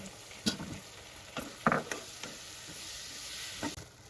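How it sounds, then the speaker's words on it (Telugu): Onions and tomatoes fry with turmeric in a pan for a double beans curry, a quiet steady sizzle under a few sharp spoon scrapes and clinks against the pan. "ఇప్పుడు దీంట్లోకి టమాటా కూడా వేసుకొని కొద్దిసేపు మగ్గించుకుందాం"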